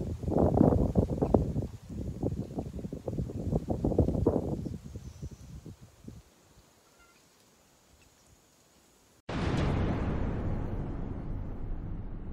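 Gusty wind blows across a microphone outdoors on a Western Cape cigar tobacco plot, rumbling in irregular bursts, dropping to a near-silent lull, then returning as a loud, steady roar.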